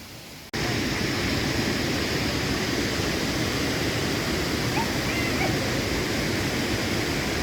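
Samandere waterfall in Turkey spills down rock steps at reduced early-winter flow, making a dense, continuous rushing roar that cuts in abruptly after a brief quieter start and holds steady throughout.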